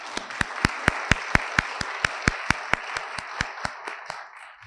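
Audience applause for family members of nominees at a school principals' awards ceremony, heard as sharp, evenly spaced claps that stand out clearly and slowly fade toward the end.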